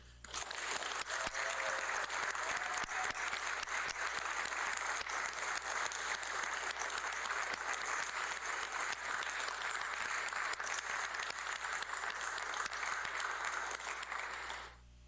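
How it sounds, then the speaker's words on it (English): Sustained audience applause at an Eagle Scout court of honor, dense steady clapping from a crowd lasting the whole stretch before tapering at the very end. "Give him a round of applause."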